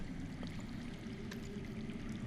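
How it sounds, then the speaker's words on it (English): Faint underground water flows in a video game, a soft, steady rushing and trickling that is distant and muffled, with no voices. "I hear water. From underground."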